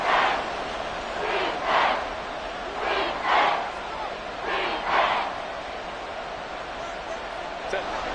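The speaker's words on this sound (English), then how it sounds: "This crowd turning up the decibel level." A football stadium crowd swelling in noise late in a game, roaring in repeated loud surges that rise and fall every second or so, with a broadcaster's voice underneath.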